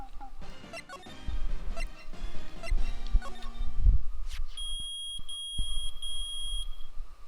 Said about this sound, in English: Nick, it's beeping. The metal detector's found something.